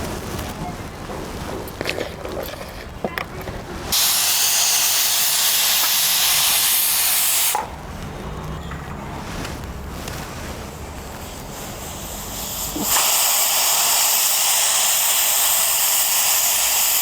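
A pressure cooker cooking dal, with water, green chillies and coriander, vents steam in loud sustained hissing bursts that alternate with quieter stretches of bubbling and kitchen sounds.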